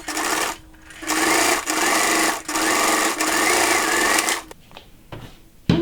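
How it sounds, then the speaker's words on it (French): A sewing machine topstitches a seam on a dress, running at steady speed in several bursts of a few seconds with short stops between them, then going quiet with a few faint handling clicks. "on fait une surpiqûre à 5 ou 7 mm"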